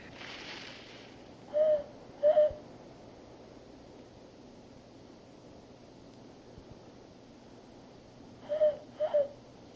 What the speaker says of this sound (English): That bird.